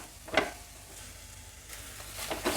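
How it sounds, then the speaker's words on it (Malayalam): Spices and green chilies frying in coconut oil for a kurma, a soft steady sizzle with a few brief stirring scrapes and clinks, close by and with no one talking. "അപ്പോൾ അതൊന്ന് ആ വെളിച്ചെണ്ണയിൽ കിടന്നൊന്ന് മൂത്ത് വരട്ടെ"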